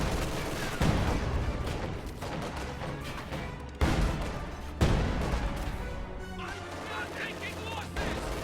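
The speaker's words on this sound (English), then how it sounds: "SU-76 gets a lucky shot right there, and it will deploy high explosive barrage on the team weapon." A Soviet SU-76 self-propelled gun lays a high-explosive artillery barrage in a World War II strategy game: several heavy blasts land in sequence with sharp onsets, over a busy backdrop of battle noise and brief voice lines.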